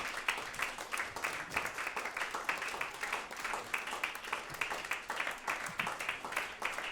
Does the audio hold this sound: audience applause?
yes